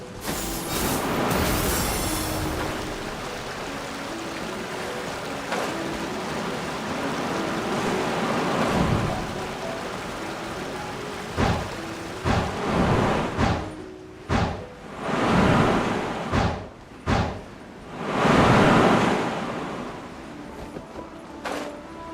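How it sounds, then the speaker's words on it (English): Wind gusts rush and swell in Genshin Impact, a loud, steady roar that breaks into surging bursts toward the end, with no voices over it. "There's wind up ahead!"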